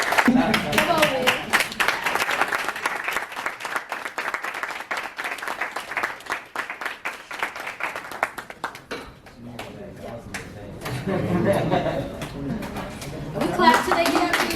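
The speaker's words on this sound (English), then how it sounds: "We clap till they get up here." Workshop audience clapping in a steady, rapid patter for most of the stretch, then fading as voices and room chatter take over near the end.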